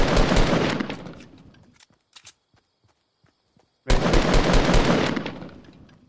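Loud bursts of rapid automatic gunfire in the video game Fortnite during a squad match. Heavy firing fills the opening seconds, gives way to a few scattered shots and near silence, then a second long volley erupts.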